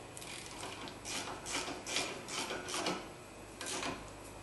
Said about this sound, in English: you get in there with your ratchet and you tighten it down with your ratchet